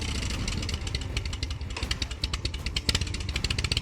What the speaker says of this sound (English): Number 10, mid-90s Evolution, big twin engines.